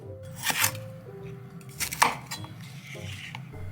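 A knife cuts lotus root lengthwise on a cutting board, giving a few crisp, separate chops at an uneven pace, close up with no talking.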